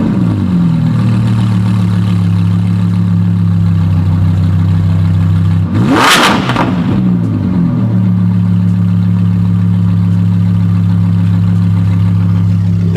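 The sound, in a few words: Audi R8 engine revving to 3,000 RPM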